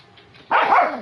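A dog gives one loud, close bark that ends in a short whine after a quiet moment.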